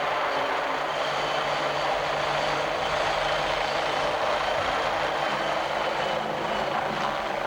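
A Coast Guard helicopter flies nearby, giving a steady, loud, unbroken rotor and engine roar that holds constant throughout.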